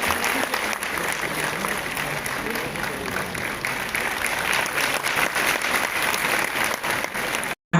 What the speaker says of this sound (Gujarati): ભાવનગર શહેરની જનતા આપણે સૌ તાળીઓના નાદથી આ ક્ષણને વધાવીએ